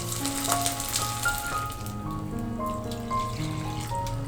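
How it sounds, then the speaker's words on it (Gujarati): Water poured into a hot pan of roasted, puffed edible gum, a steady hissing sizzle with splashing, close and alone. "અને ત્યારબાદ આપણે તેમાં 2 કપ પાણી એડ કરી દઈશું"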